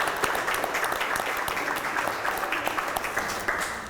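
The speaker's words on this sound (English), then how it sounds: "So we can give her a round of applause." A round of applause for Annie from an audience at an Assyrian flag raising event, steady crowd clapping with scattered sharper claps and no voices.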